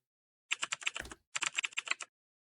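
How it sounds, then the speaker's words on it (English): Bursts of rapid clicking keystrokes on a computer keyboard, two quick runs separated by a brief pause, close and crisp with no voices. "Oh, the tapping sounds are also really nice. The clickety-clacks."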